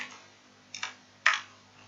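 Keystrokes on a computer keyboard: a few quiet, isolated clicks, then two sharper, louder taps close together near the end, alone against a faint steady hum.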